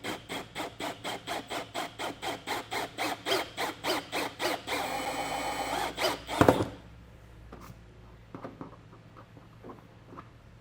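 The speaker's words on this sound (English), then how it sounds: "I'm just going to take a 1-inch hole saw and carefully put a hole through that" A 1-inch hole saw cuts a wiring hole while installing a base plate kit on a 2023 Jeep Wrangler 4xe, with rhythmic pulsing grinding strokes for several seconds, a sharp squeal as it breaks through, then quiet handling noises.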